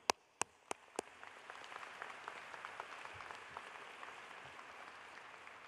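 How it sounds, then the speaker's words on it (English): Applause at a university commencement ceremony in a large hall, opening with a few sharp distinct claps before settling into soft, sparse, distant clapping that continues faintly. "That deserves an applause"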